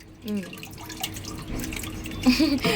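Tap water runs and splashes over a goat head being washed in a kitchen sink, with intermittent drips and gushes, close by, while people talk over it.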